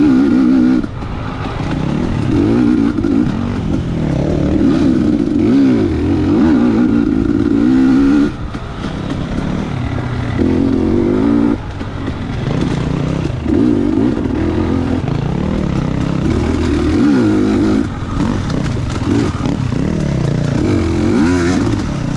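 Off-road motorcycles racing in the 2022 Mag 7 Swamp Rat GP make loud, nearby engine snarls that rise and fall with repeated revving and shifting, continuous throughout with short dips between bursts.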